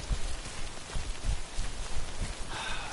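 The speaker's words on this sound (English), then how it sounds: "it's raining and our cargo is being damaged by the rain" Rain falls steadily in the Death Stranding game, a soft continuous patter with dull heavier thumps mixed in, moderately quiet and without talk.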